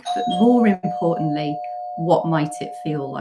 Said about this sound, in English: I'm really sorry, that's my doorbell.